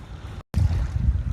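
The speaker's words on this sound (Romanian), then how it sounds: "A început iarăși vântul mai tare." Strong wind buffeting outdoors, a steady low rumbling roar with a brief dropout, no voices.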